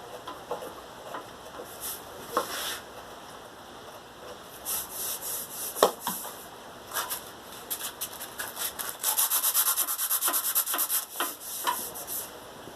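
Wood on a piece of furniture being trimmed around a knot repair, with repeated short scraping and rubbing strokes in uneven bursts, close up and moderately loud, with no talk.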